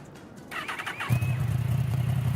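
Motorcycle engine in Overwatch starting up with a brief rising whine, then settling into a loud, steady low rumble close by, with no talk.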